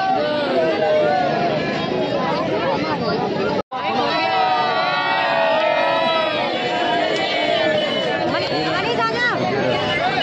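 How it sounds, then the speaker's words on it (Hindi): A large, dense crowd fills the air at Raman Reti in Mathura with continuous babble, shouts and children's voices, loud and close, broken only by a momentary cut-out near the middle. "वैसे भीड़ लग गई क्या"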